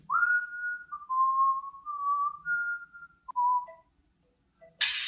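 A phone melody of sustained whistle-like tones rings out clearly, shifting pitch in a few steps before cutting off, followed by a brief noisy burst.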